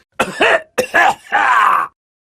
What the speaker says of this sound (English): The old man coughed.